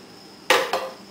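Charred onions and tomatoes scooped into a blender in a kitchen, two loud close scraping thuds in quick succession, with no talking.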